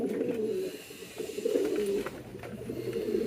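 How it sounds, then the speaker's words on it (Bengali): A king pigeon coos insistently after a new pigeon arrives, repeated rolling throaty calls in short bursts close by, with other birds faintly in the background. "আমাদের কিংটা দেখছেন, আগুন ডাক দিচ্ছে নতুন কবুতর পেয়ে"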